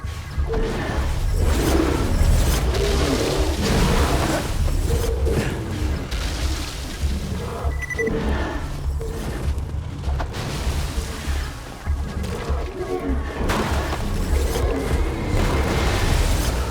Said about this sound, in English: Grenade! Here you go.